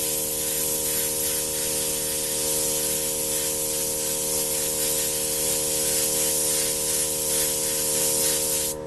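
An airbrush sprays paint onto a ground metal panel for a Halloween design, a continuous close hiss of atomized air and paint that holds steady for nearly nine seconds with no talking over it.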